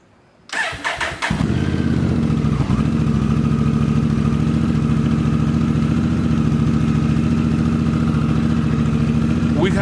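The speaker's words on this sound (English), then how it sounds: "Now you have to turn on the bike and let it run for" A Honda Africa Twin motorcycle, freshly refilled after an oil change, cranks and fires within the first second, then settles into a loud, steady idle that runs without a break for the rest of the clip.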